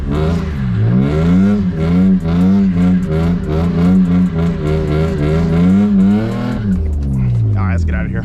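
A welded-differential BMW E36 driven through snow revs loudly up close, its engine note rising and falling in repeated sweeps before easing off, with talk mixed in.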